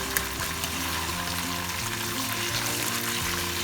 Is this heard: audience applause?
no